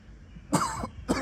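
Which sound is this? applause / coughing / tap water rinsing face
coughing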